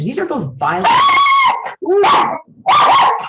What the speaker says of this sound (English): Sorry for the loud barking